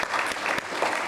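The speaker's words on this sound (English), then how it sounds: "Big round of applause for the governor for getting there." An audience at a clean energy talk breaks into brief, dense applause, steady clapping filling the whole short moment.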